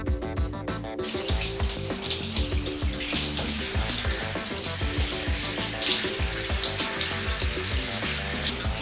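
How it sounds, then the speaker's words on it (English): A shower runs at home, a dense continuous spray of water that stays loud and close throughout, with faint clattering underneath. "having a shower."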